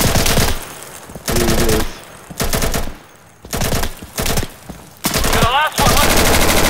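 Loud machine-gun bursts in the shooter game Insurgency, several separate volleys of rapid shots with short gaps between them, and someone speaking between the bursts.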